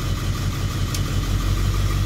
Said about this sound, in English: you can definitely hear the truck stumble and thud a little more as I shut off the other injectors